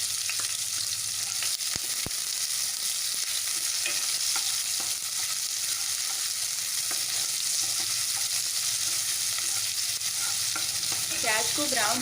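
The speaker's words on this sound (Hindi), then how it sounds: "लहसुन ब्राउन हो गया है तो अब डाल देंगे इसमें प्याज और हरी मिर्च।" Chopped onion and green chili fry in hot oil alongside browned garlic, giving a steady close sizzle with repeated scraping and clattering of a spoon stirring the pan, and no voices.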